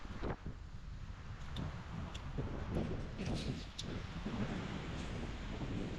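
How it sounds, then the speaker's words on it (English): Strong coastal wind blows across an open bay shoreline, a steady rumbling roar with buffeting on the microphone and faint surf beneath it, with no voices. "Wind's a bit strong."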